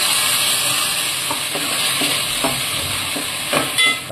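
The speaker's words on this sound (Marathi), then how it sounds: "आपण परतून घ्यायचा." A green coriander masala paste sizzles and fries in a hot pan while a spoon stirs it, giving a steady close hiss broken by irregular scraping and stirring knocks.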